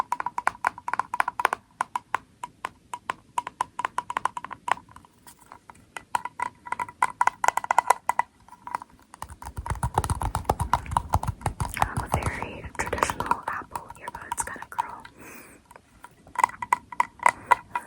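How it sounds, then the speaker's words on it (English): Rapid small plastic clicks and snaps repeat close up, an earbud case popping open and shut again and again, with a rustling handling burst midway. "my little container where my earbuds go, because I think it kind of makes a nice sort of clicky sound"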